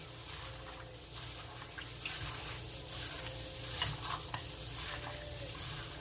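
Caribbean pepperpot of pork, beef and cowfoot being stirred in a pot, a steady soft sizzle and frying bubble with scraping spoon strokes throughout, alone with no talk.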